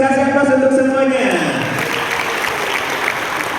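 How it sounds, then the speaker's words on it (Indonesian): A school audience of high school and vocational students in a regional parliament building claps, a burst of loud, dense applause that swells and carries on steadily, briefly overlapping a speaking voice at the start. "Kasih aplaus untuk semuanya."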